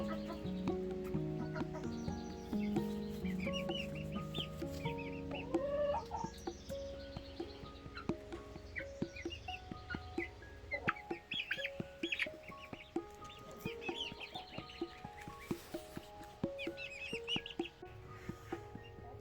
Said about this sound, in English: The blonde chick was hatched out from my buff, Sunshine